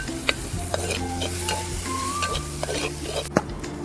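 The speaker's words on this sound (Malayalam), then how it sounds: "ഒന്ന് ഇളക്കി കൊടുക്കണം. അപ്പോൾ ഒന്നും കൂടി തക്കാളിയും സവാളയും പെട്ടെന്ന് വഴണ്ട് കിട്ടും." Onions and tomatoes sizzle steadily in a pan with salt while being stirred outdoors, a continuous frying hiss broken by a few scraping clinks of the spoon against the pan.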